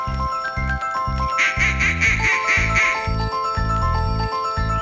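An animated mallard duck gives a series of short, evenly spaced quacks against a bright tinkling musical jingle in a cartoon story scene.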